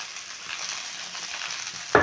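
Okra frying in a pan with a steady soft sizzle, alone and without voices, ending in a brief louder clatter or stir.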